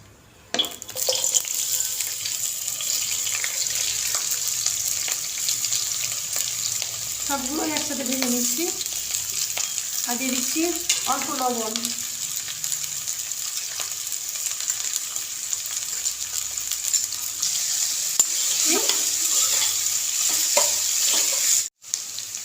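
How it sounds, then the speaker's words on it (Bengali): Mixed vegetables stir-fry in a hot pan for village-style chow mein. A continuous loud sizzle holds for over twenty seconds, with scraping and stirring, a few brief tonal sounds midway and a short clatter near the end. "এবার সমস্ত সবজিগুলো ভেজে নিচ্ছি"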